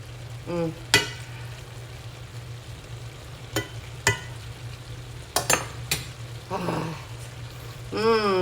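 Cabbage frying in a pan with kielbasa and bacon, a steady sizzle running throughout while a utensil stirs and scrapes in several sharp bursts, close and loud.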